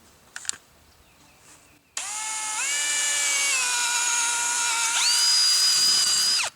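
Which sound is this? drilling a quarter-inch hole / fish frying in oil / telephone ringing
drilling a quarter-inch hole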